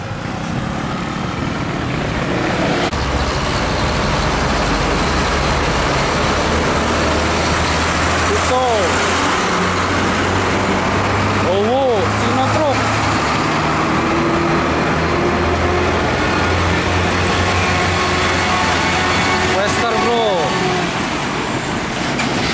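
A heavily loaded UD Quester trailer truck rumbles along the Pantura highway near Tegal, its loud engine drone steady throughout, with other traffic passing and a few horn blasts sounding over the road noise.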